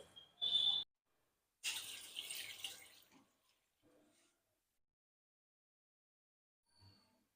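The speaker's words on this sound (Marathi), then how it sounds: "आपण पोहे स्वच्छ धुवून घेऊ" Flattened rice (poha) being rinsed with water in a kitchen while preparing kande pohe: two short bursts of running, splashing water, the second longer and rougher, followed by faint clinks and near silence.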